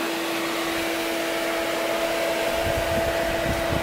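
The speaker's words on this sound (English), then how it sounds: "So we're really cooling her off now with the fan." A fan blows steadily over a tractor carrying a swapped-in Honda 500cc engine, giving a constant close whoosh of air with a faint steady tonal hum beneath it. No one speaks.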